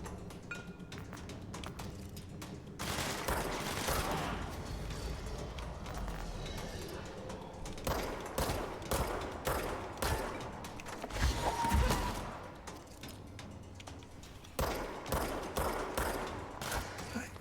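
Rapid bursts of automatic gunfire and repeated shots in the video game Control, dense and continuous through the whole stretch with louder volleys near the end, under faint game sounds.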